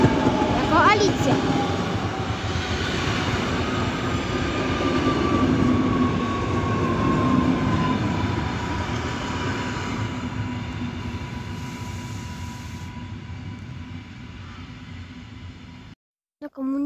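An M57AL electric train rolls into a station near Wołomin, a long steady rumble with a drawn-out whine and squealing tones that fades at the end.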